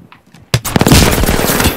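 Loud rapid gunfire from the video game Apex Legends bursts in after a short quiet stretch, then continues as a dense, sustained volley.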